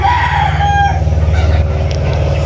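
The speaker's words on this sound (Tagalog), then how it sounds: "Ito po mga manok nila mga kalaki." A rooster crows loudly and close by on a game fowl farm in Caloocan, over a constant low engine-like rumble, while other birds call faintly.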